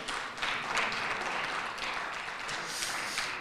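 Audience applause for high school student debate teams at a 2019 debate event, a steady even wash of clapping filling the room throughout, moderately loud with no talk over it.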